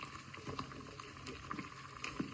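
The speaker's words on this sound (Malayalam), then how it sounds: "നല്ല തിളക്കാൻ തുടങ്ങി," Rice water for egg biryani bubbles at a rolling boil in a cooking pot, a faint, steady patter of popping bubbles throughout with no voices.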